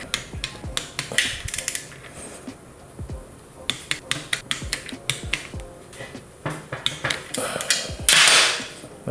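A torque wrench tightens brake caliper bolts to 10.5 foot-pounds on a Paragon big brake kit, giving many sharp, close clicks and metallic taps in irregular bursts, with no talk.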